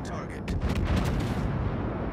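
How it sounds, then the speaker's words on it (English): A battleship fires its guns in a naval video game: a few booming, rumbling blasts come in quick succession and roll off into a low, sustained rumble, fairly loud and distant-sounding. "the battleship behind me shoots at somebody else"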